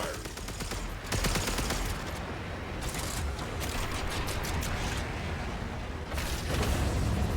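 Torpedo launches and explosions from a ship in a naval battle video game, a dense continuous barrage of booms and rapid blasts that stays loud throughout, with a voice faintly underneath.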